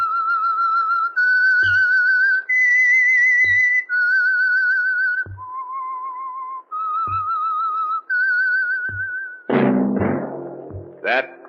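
Whistled theme melody of the 1947 radio drama The Whistler, a clear solo tune of sustained notes with warbling vibrato. Sharp knocks sound between the phrases, and a burst of other sound follows near the end.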